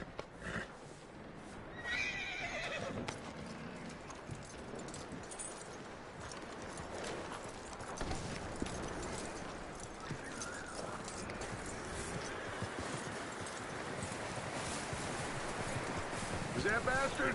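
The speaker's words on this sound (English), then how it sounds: "That looks like a decent horse." Horse in Red Dead Redemption 2 walking with steady clip-clop hooves and a loud whinny early on, under wind noise, with voices talking over parts of it.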